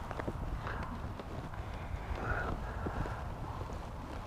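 Hooves of a wild mustang shuffle and thud faintly on the ground as the horse is turned around, soft irregular steps under wind and low background rumble.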